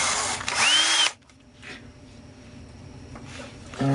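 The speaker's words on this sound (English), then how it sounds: "Put it in the chuck of your drill." A power drill whirs loudly up close for about a second while spinning a roll pin in its chuck, winds down, then a brief second burst starts near the end, with quieter handling sounds between.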